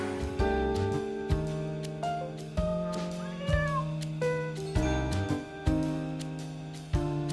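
A black cat meows with a short rising-and-falling cry over steady, loud dramatic background music, with sharp percussive hits throughout.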